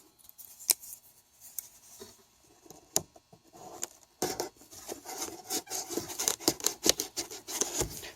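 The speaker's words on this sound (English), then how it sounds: "This is a dull knife, by the way, so I don't think it's not much good besides cutting tape." A dull knife slices and scrapes through packing tape on a mailed package, making sparse scratchy cuts that build into a dense run of rapid, close rasping strokes, with no talking.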